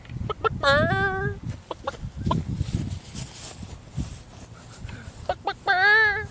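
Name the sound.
chickens clucking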